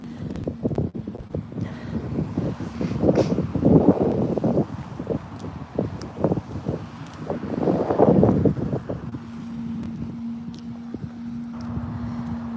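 Wind buffets the microphone in gusts, rumbling and rushing, with stronger blasts around the middle and a low steady hum underneath.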